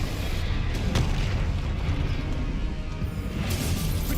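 A Confringo fire blast spell detonates during Hogwarts Legacy combat, producing a sustained, loud, rumbling explosion with crackling bursts and a swelling roar that carries on for several seconds.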